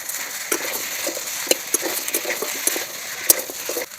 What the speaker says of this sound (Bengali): পেঁপে দিয়ে ভালো করে ভেজে নেব